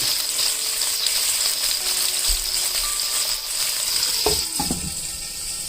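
Small blocks of salted tofu fry in hot oil in a pan, giving a steady loud sizzle throughout, with a few brief clanks and scrapes near the end.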